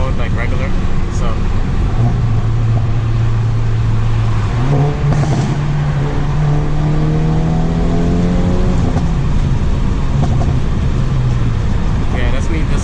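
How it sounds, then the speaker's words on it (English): Hyundai Veloster N in N mode downshifting with rev matching inside a tunnel, its engine note climbing and dropping through gears with crackling exhaust pops, loud and echoing while a person talks over it. "that's me just like downshifting in the under the tunnel. It popped."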